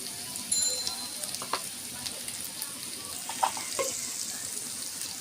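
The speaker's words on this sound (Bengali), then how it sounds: "সব উপকরণ দিয়ে এখন একটু ভালো করে নেড়ে ছেড়ে নিব" Spices and ingredients, including ground coriander, cumin and turmeric, are stirred and fried in a pan, heard as a faint steady sizzle with occasional soft stirring clicks.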